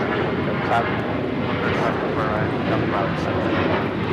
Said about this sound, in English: This is American Airlines 539 taking off to Austin on the 737-800